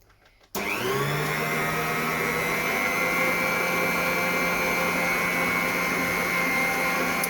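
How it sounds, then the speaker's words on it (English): Electric whisk beating egg whites and sugar into meringue for air-fryer meringue nests, starting abruptly after a brief quiet moment and then running as a loud, steady motor whine that holds without a break. "whisk it for another 2-3 minutes, and then add another 1/4 of sugar in"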